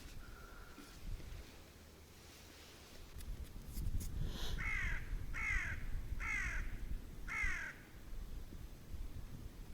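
A crow caws four times in a steady series, fairly close and loud over soft outdoor wind noise on the Desna River.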